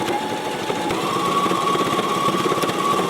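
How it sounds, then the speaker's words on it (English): A Brother ST371 HD sewing machine stitching fabric, giving a close, steady mechanical whir with a fast, even rhythm and no talking. "Today I am sewing on the Brother ST371 HD, the Brother Strong and Tough."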